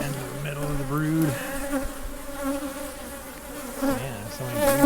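A crowded brood box in an open honey bee hive hums with a thick, continuous drone up close. The pitch wavers and rises in places as the bees stir during the inspection. Nobody talks.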